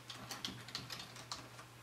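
Quiet, close keystrokes on a computer keyboard while entering a label into an Excel spreadsheet, about half a dozen light clicks in a quick uneven run.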